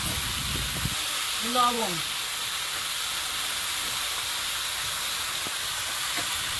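Eggplant frying in a pan with ginger paste, garlic paste, turmeric and salt gives a steady, close sizzling hiss throughout, with a brief spoken word near the start.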